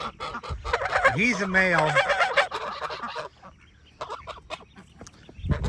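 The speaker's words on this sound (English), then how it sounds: "If the geese can shut up for a minute, I can talk." Loud honking and gobbling calls from nearby geese fill the first few seconds, then fade as someone speaks briefly over quieter background noise on a farm.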